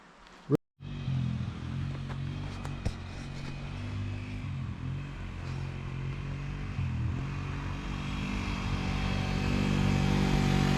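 A small kids' motorbike ridden outdoors by a young girl, its engine droning steadily and fairly close throughout, growing slightly louder toward the end, with a sharp knock near the start.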